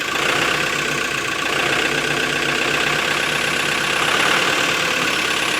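A LOVOL 1054 farm tractor's diesel engine runs at a steady idle after a start on a frosty morning, a loud, continuous, close chugging rumble with no talking.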